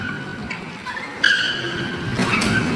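A black car skids with tires squealing on a New York street, short sharp screeches rising over steady road and traffic noise, fairly close and loud.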